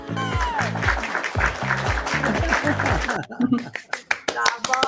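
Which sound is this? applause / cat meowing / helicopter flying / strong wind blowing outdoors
applause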